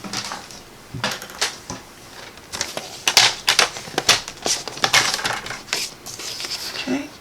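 Paper being cut down to size for a holiday craft, a run of sharp clicking snips and crisp paper rustles, close and fairly loud, with no talking.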